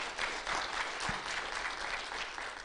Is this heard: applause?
yes